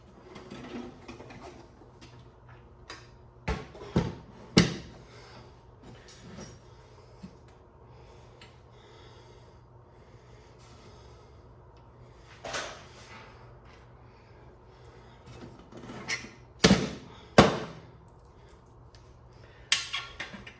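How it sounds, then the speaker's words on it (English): Bolts being fitted into a no-weld aluminum MSE shell produce sparse sharp metallic clanks and rattles in small clusters, separated by long quiet stretches of low background hum. "we'll go ahead and put these bolts in as well"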